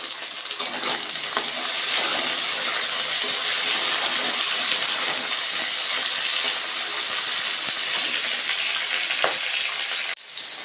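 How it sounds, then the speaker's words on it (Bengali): Flat beans and eggplant fry in oil with whole spices, a loud continuous sizzle with occasional stirring knocks, steady for about ten seconds before a brief drop at the end. "সিম বেগুনটাও ভাজা ভাজা করে নেব তেলের সঙ্গে ফোড়নের সঙ্গে"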